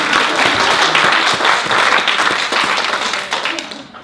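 Sustained applause from a conference audience at an opening session, a dense, steady wash of many hands clapping for about four seconds before tapering off.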